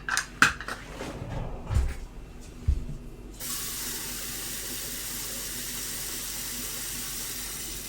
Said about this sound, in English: We need a cup of water to start.